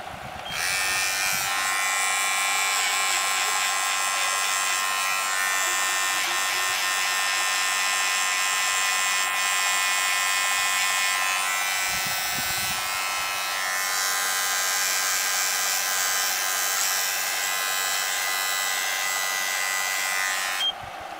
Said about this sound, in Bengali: এই পজিশন পর্যন্ত আমি মেশিন দিয়ে জিরো কাটিং পর্যন্ত মানে জিরো কাটিংটা তুলব